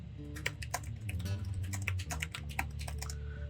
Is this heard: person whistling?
no